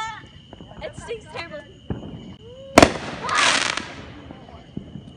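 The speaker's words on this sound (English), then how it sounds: "This is the firework you need." A sharp crack of a firework bursts out, followed by a crackling, hissing fizz that fades over a couple of seconds; voices are heard briefly beforehand.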